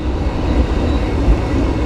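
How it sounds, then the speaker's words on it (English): A train passes close by on a bike commute, a loud steady low rumble filling the whole moment with no voices. "Train! Train, train, train."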